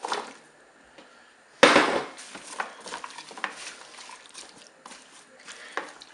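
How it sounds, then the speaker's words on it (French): Mushrooms, leeks and carrots tumble into a Cookeo multicooker pot with a sudden clatter, followed by scattered light knocks and scraping stirs at close range. "Maintenant, je vais ajouter mes légumes. Je vais ajouter mes champignons de Paris, mes poireaux,"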